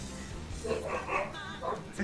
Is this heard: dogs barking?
yes